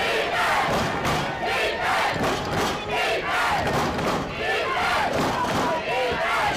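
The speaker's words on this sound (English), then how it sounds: "And North Haven's crowd calling for defense." A North Haven home crowd at a Class MM semifinal high school football game against Wilton chants for defense in loud rhythmic pulses, with a steady crowd roar in between and commentary audible over it.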